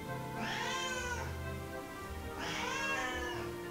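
A cat gives two drawn-out, rising and falling meows about two seconds apart, close and clear over a steady low background hum.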